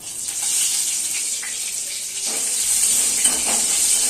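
Green chilies and five-spice tempering sizzle in hot oil in a wok, with a steady broad frying hiss and a few brief crackles, close and fairly loud, with no talk.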